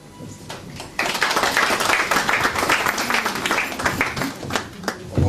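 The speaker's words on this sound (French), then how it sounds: "On applaudit Ibrahim 2 fois doublement pour son développement et pour son approche genre." Dense applause from an audience at a book dedication ceremony bursts in suddenly and holds steady as a full, close wash of clapping for several seconds.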